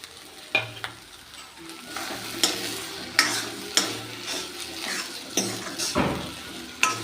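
Potatoes and onions fry in an iron wok (kadhai), a steady sizzle broken by repeated sharp scrapes and knocks of a spoon stirring against the metal, close and fairly loud, with no voices.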